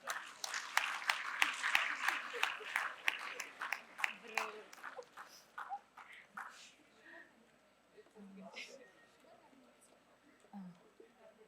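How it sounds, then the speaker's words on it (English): An audience claps for award winners at a university research day ceremony, a dense burst of applause that thins out into scattered claps and fades, with faint murmuring near the end. "Please, I request audience to clap for our winners."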